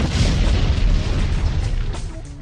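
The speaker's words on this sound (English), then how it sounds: "Trying to make our spots sound more exciting by adding explosions." A loud, booming explosion with a rumbling blast that decays over a couple of seconds.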